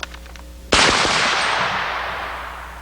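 One sharp, loud gunshot from a .460 Rowland carbine conversion cracks close by and rings out in a long fading tail, preceded by faint handling clicks.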